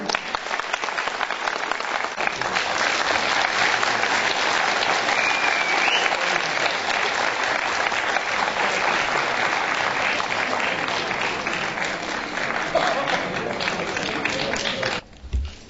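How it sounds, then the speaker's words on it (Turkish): Concert audience in Akşehir applauding at length after thanks to the painters, a dense, steady wash of clapping that holds evenly for about fifteen seconds before cutting off abruptly near the end. "Ayrıca bir alkış rica ediyorum."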